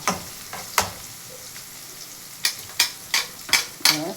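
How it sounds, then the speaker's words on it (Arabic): Onions fry in hot oil for Egyptian koshari, a quiet sizzle punctuated by sharp spatula scrapes and stirring knocks, the strokes coming closer together near the end, close by with no talking. "ونقلي البصل الاول، نحمره الاول"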